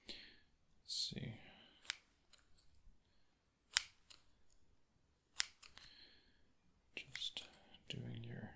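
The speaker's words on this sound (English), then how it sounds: "Just gonna give them a little bit of a trim." Scissors trimming hair near the ear in a 3D ASMR roleplay: a few crisp, close snips and clicks spaced apart, alternating with soft whispering in a very quiet room.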